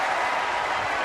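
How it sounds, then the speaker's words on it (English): Crowd cheer and scattered applause at a Texas Rangers baseball game, a steady, broad roar of a stadium audience, brief and fairly loud. "a rather sarcastic cheer goes up for Jim Reynolds"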